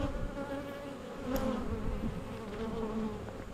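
Honeybees buzz steadily around an open beehive, a dense, continuous hum of many insects close by with no talk.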